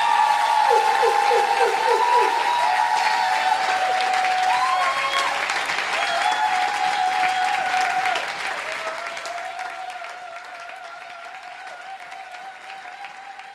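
Church congregation applauding and cheering together, a dense, sustained wash of clapping with voices mixed in, loud at first and gradually thinning and softening toward the end.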